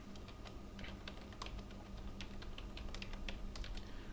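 Rapid keystrokes clatter on a computer keyboard while someone sets a debugger breakpoint, a steady irregular run of close, quiet clicks with no talking.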